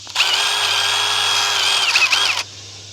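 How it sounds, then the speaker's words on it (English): A power drill fitted with a larger bit whines at a high, steady pitch as it bores a hole for a homemade DX Commander 40-6m antenna. It runs for about two seconds, wavers slightly near the end and then stops, close and loud. "get my drill and a little bit larger bit and drill that out"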